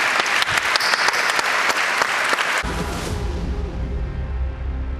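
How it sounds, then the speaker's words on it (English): A crowd claps loudly for a few seconds at the UEFA Champions League group stage draw, then the applause cuts off into a low, murmuring room rumble. "I'm going to give them again a big applause, and I hope you will join me."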